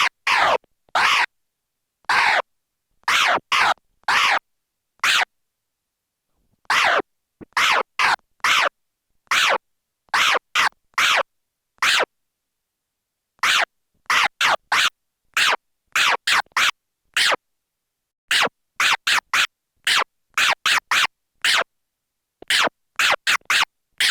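DJ turntable scratching in a stab and chirp combo pattern: sharp, isolated bursts in quick clusters separated by brief silences, played alone and close.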